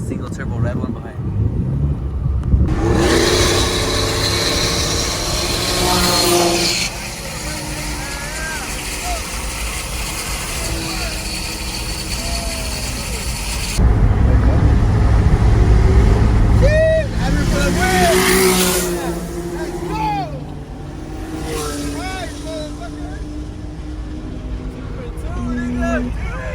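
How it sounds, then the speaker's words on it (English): A twin-turbo Nissan 350Z HR racing a boosted single-turbo red 370Z Nismo, heard as loud, sustained engine roar with rising and falling revs, wind buffeting the microphone, and people talking over the noise. "We got this twin turbo Z right here. Racing the single turbo red one behind."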